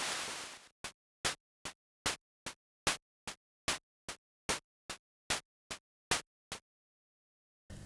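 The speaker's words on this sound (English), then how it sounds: "I have some noise hi-hats coming from that noise channel in the SN76489, and they sound like this." Sixteen short bursts of noise hi-hats from the noise channel of an SN76489 sound chip, in Sega Genesis style, tick in a steady even rhythm with slightly varying lengths, clean and alone after a brief wash of noise.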